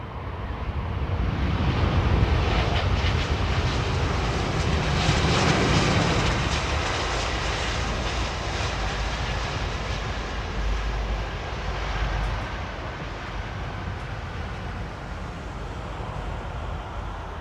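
Jet airliner engines on arrival at runway 27R: a loud, continuous broadband roar and rumble that resonates across the airfield, swelling early and then holding steady with little variation.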